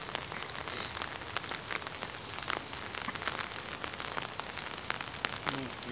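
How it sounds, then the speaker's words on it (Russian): Cold autumn rain falls outdoors on Krestovsky Island in Saint Petersburg, a soft steady patter of drops with scattered small taps, faint and continuous with no voices. "Если не обращать внимания на то, что идет дождь"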